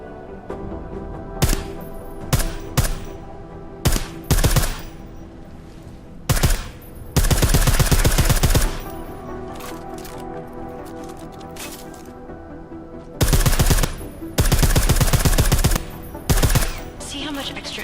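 Suppressed gunfire from Deus Ex: Mankind Divided comes as sharp, loud bursts, some single shots and some sustained rapid runs, separated by quieter gaps of game ambience.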